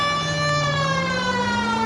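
A police car siren from the L.A. Noire video game wails loud and alone, one long rising tone rich in harmonics.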